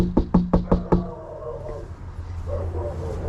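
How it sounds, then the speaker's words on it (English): Five quick, loud knocks rap on the door of a house near an abandoned farm, evenly spaced over about a second, followed by quiet room tone and faint movement. "I'm already knocking."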